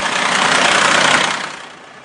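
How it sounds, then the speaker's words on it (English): A toy construction truck's synthetic engine sound rumbles as it pulls forward in a children's vehicle game, a loud, noisy two-second burst that fades out toward the end, with no speech. "Now tap the truck to pull forward."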